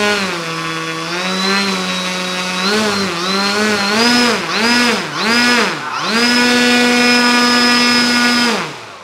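Electric motor of a Seawind 1.4m RC plane run up on test, a loud close whine that holds steady, wavers and surges several times, then sustains at full throttle before cutting off.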